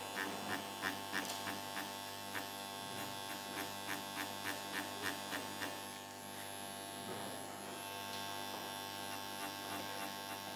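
A permanent makeup machine fitted with a four-needle cartridge buzzes steadily, with a faint pulsing rhythm in the first half before settling into an even hum; quiet and close, with no talking.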